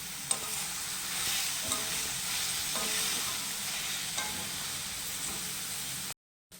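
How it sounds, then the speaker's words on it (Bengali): Coriander and cumin powder are stirred in a hot frying pan, giving a continuous close sizzle with soft scraping from the spoon and a few light knocks. "এটাকে এবার ভালোভাবে নাড়বো।"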